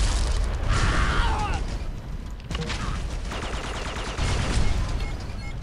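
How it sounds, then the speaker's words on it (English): Dense, continuous explosions and rapid gunfire from the Red Faction II shooter video game, a loud unbroken fusillade of bursts and booms with a brief dip midway, with a voice talking faintly underneath. "Something out there is blowing up a lot, and I don't know what it is. Explosions everywhere."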